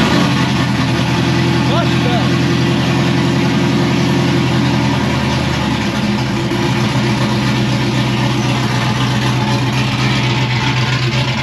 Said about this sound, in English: I just wanna know what it sounds like with a straight X-pipe